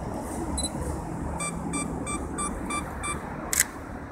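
Sony A6000 mirrorless camera on a mini tripod counting down its two-second self-timer with a run of evenly spaced electronic beeps, then a short sharp shutter click, over a steady room hiss.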